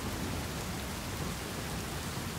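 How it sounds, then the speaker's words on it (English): Steady rain pours on wild horses in Hungary, a dense, even hiss of drops drumming on their backs with no pauses and no voices. "They patiently endure the rain drumming on their backs."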